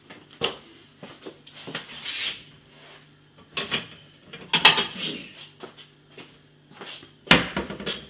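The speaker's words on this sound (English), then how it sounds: "So you mix all this stuff on a plate" IndoMie Mi Goreng chilli fried noodles are stirred and scraped on a plate with cutlery, giving scattered rubbing, scraping and clinking strokes, close and fairly quiet, separated by short pauses.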